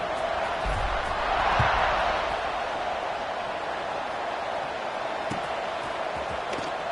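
Stadium crowd at a college football game between BYU and Cincinnati roaring in a steady broad wash before a kickoff, swelling briefly early on, with a commentator's voice over it.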